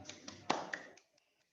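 A handful of quick hand claps sounds close to the microphone in a short, uneven burst during an online talk, then stops and leaves near silence.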